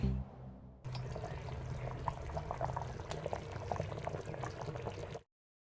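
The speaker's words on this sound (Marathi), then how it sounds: "आता 1 उकळी येऊ द्यायची।" Mutton rassa gravy coming to a boil in a pot, a continuous bubbling, gurgling liquid sound with small pops, close and steady for several seconds before stopping abruptly.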